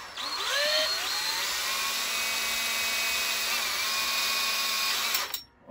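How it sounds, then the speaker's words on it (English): Small power drill with a 2.5 mm bit boring a hole in a wooden turned pendant, a close high-pitched whine that spins up, holds steady for several seconds and then stops. "I'll just drill my hole in it, okay?"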